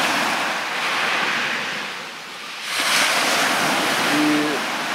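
Sea waves wash onto the shore on the Black Sea coast at Kobuleti, Georgia, a continuous loud surf roar that swells and eases, with gusts of wind buffeting the microphone.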